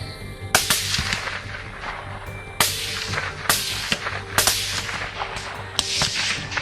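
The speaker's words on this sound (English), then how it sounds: "The gunshot echoed through the night." Gunshots from a night wild boar hunt crack out loudly, about six sharp reports at irregular intervals, each trailing into a long echoing decay over a steady low rumble, with no talk.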